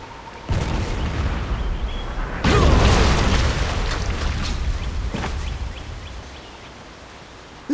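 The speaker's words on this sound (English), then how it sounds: "Cannon fire, look out!" Deep booming cannon blasts in the video game Jade Empire, one at the start and a bigger one a couple of seconds later, followed by rumbling and scattered pops that slowly fade.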